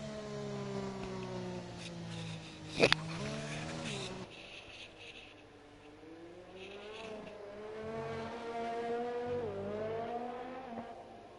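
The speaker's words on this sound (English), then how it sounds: "So Dodgy now just coming through the final corner" Race car engines in the F1 2020 video game on the Russian GP circuit, whining and revving up and down through the final corner, with one brief sharp knock and tyre squeal, continuous and fairly loud.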